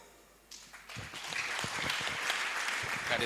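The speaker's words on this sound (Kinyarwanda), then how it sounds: "Twongere dukomere Imana amashyi" A church congregation breaks into loud, sustained applause for a choir, starting quietly and swelling into a dense, even wash of clapping that fills the room.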